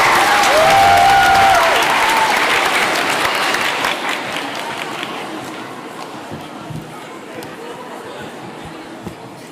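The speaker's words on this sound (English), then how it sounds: "Give him a round of applause." Audience applause at a UK schools debating championship event, loud at first and gradually thinning out over several seconds, with some crowd chatter mixed in.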